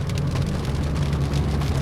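Rain drumming on a Suzuki XL7 during a drive, a dense steady patter over a low engine and road hum inside the car, with no talking.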